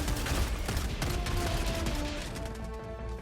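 Rapid shotgun blasts from the SG-225 Breaker in Helldivers 2, a dense string of loud close booms layered over steady battle noise with no pause throughout.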